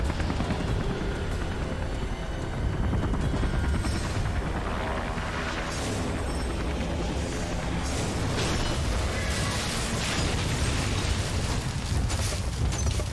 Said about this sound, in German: Bring den Heli zum Absturz.